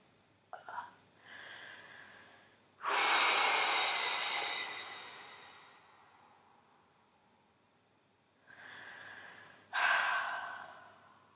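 Slow, deep breaths during a back-relaxation exercise lying on a ball: a soft inhale, then a long, strong exhale that fades, and later another breath cycle, close and quiet with no talk.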